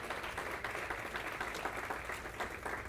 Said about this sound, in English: Let's give Gary Brantley a round of applause